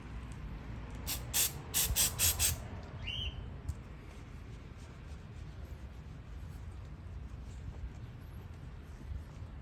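Short bursts of mass airflow sensor cleaner sprayed from an aerosol can on a Honda Accord, a few quick hissing puffs near the start, then a quiet steady background.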